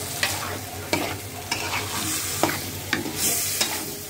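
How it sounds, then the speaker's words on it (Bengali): Curry with ginger paste, garlic paste, dried chili and turmeric stirred in a pan, a low continuous sizzle punctuated by about eight sharp, evenly spaced scrapes and taps of the spoon. "ভালোভাবে তরকারিটা মিক্স করে নিচ্ছি"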